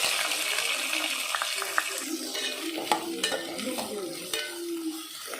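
Chopped onions and green chillies hit hot oil in a frying pan, giving a steady sizzle with scraping stir clicks, close and moderately loud, with no talk over it.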